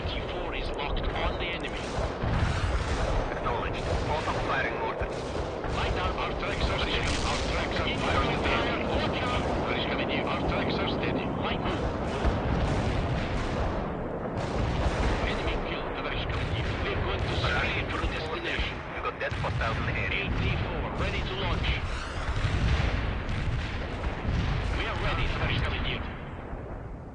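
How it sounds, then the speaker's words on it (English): Mortar fire in the video game World in Conflict, a Soviet assault battle: repeated heavy booms and blasts roll on continuously with gunfire mixed in, loud and dense, while radio voices talk over the barrage. "Both are firing mortars."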